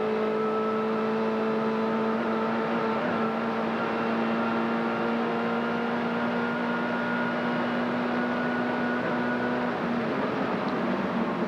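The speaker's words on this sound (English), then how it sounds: "Listen to the V8 work." A V8 touring car engine howls steadily at high revs through a smooth lap of Bathurst in the 1995 Tooheys 1000 shootout, a sustained, loud drone with a strong tonal whine and no break.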